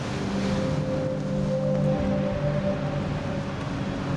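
Rough ocean waves churned up by wind blowing against the current on a stormy sea, heard as a steady, loud roar of surf and wind with a low engine-like hum from a rescue ship underneath, no talking.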